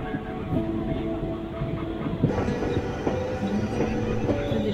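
An electric passenger train runs on a broad gauge line between Itwari and Chhindwara, a steady rumbling ride with rhythmic wheel clatter and occasional clanks, heard close from on board without talk.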